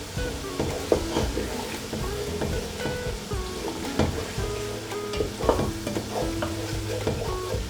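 Mushroom curry being stirred in a pan with a splash of water, giving a steady sizzle broken by repeated scraping and clattering spoon strokes close by, with no talking.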